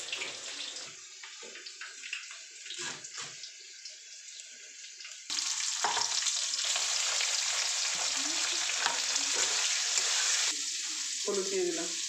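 Potato, eggplant and green chili frying in a pan, a moderate sizzle that swells into a loud, dense hiss partway through, with occasional stirring clatter.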